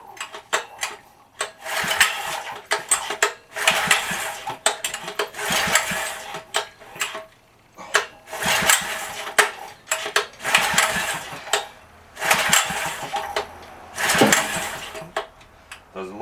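An old Kohler engine on an antique ME tiller with a troubled carburetor sputters and surges in loud, uneven bursts, catching briefly and dying away in repeated cycles with gaps of near quiet between.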